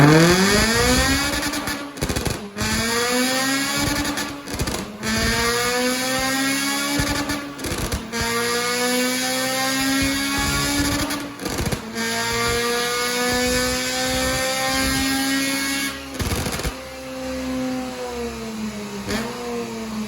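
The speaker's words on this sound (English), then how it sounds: "I just wanted to rev this car up." A Honda Civic FN2 Type R, tuned with Ecutek, revs repeatedly at close range, each rising whine climbing and falling back between short pauses, with a dozen or so blips in sequence.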